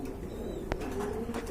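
Light-coloured pigeons at a large pigeon farm give a low, soft coo under a faint background hum, with one brief sharp knock partway through and no talk.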